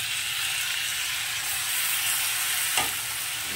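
Chopped tomato added to onion and capsicum frying in a pan for egg bhurji, giving a steady loud sizzle and hiss throughout with a brief stir clatter near the end.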